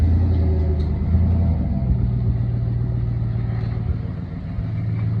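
A 1973 AMC Javelin pulls away with a deep, loud engine rumble that shifts pitch as it moves off, steady and close, gradually easing.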